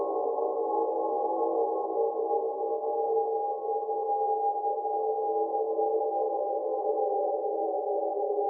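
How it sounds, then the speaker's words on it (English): Steady morphing delay-feedback drone from the UrsaDSP Lagrange plugin, a sustained midrange hum that hovers evenly and continuously with slowly shifting tones and no gaps. "it causes a sort of morphing feedback sound, which is already pretty useful as a background drone"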